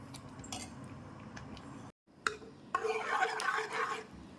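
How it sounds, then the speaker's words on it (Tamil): A spoon stirs thick cooked ragi porridge in a pot to cool it, giving soft scraping and light clinking close by, with a brief pause midway and busier scraping afterward. "அதை வந்து இந்த மாதிரி கிளறி விட்டுட்டே இருந்தீங்கன்னா சீக்கிரமாக ஆறிடும்"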